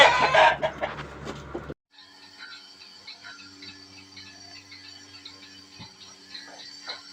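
A loud burst of hens clucking and squawking up close, then it drops to quieter, scattered clucks with some background hum.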